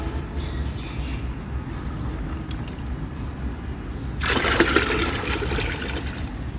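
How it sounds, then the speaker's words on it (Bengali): Water is poured into a bucket to mix organic fertilizer outdoors, a faint trickle at first that swells into a louder splashing rush in the last couple of seconds. "স্বপন ভাই পানি নিয়ে বালতির মধ্যে মিক্সার দিচ্ছে"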